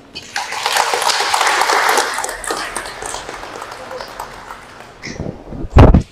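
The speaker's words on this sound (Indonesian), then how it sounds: "Sebagai ungkapan kegembiraan kita beri tepuk tangan kepada mereka." Guests at a Catholic wedding applaud the newlywed couple: a few seconds of dense, lively clapping from a crowd that fades out, followed by a couple of sharp knocks.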